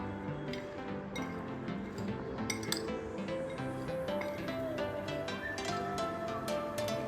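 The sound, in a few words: mixing spices and lemon juice into sprouted moong salad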